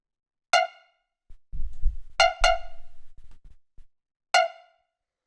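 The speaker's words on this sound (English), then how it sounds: "The first sound is this little bloop, which sounds like this." Little bloop synth sound from a 126 BPM tech house track, short bright plucky blips repeating sparsely, close and clear, with a few low thuds in between.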